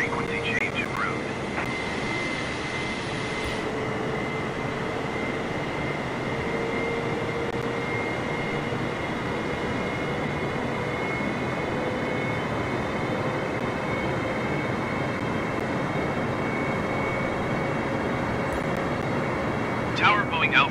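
Boeing 747-8 jet engines in Microsoft Flight Simulator 2020, on approach west of Belize: a loud, steady broadband drone with a sustained whine throughout, and faint voice chatter underneath.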